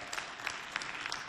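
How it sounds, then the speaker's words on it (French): Audience at a Saint Valentine's show clapping, a steady patter of applause from a crowd with small sharp peaks, moderately quiet and heard without talk. "Applaudissez pour elle."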